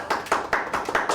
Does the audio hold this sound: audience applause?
yes